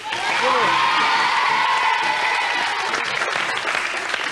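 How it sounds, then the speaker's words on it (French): Studio audience applause on a French children's TV show fills the room, loud and steady, with whoops and bright voices rising over the clapping near the start before settling into a dense, even wash. "les applaudissements sont merveilleux"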